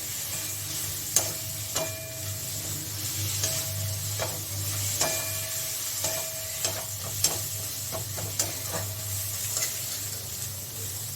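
A paste of cumin, ginger and coriander fries in a pan, giving a steady close sizzle broken by repeated spatula scrapes and light metallic taps every second or so, with no voices.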